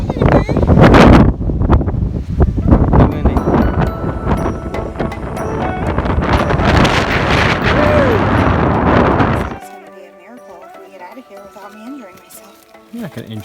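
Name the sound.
wind on the summit of Pyramid Peak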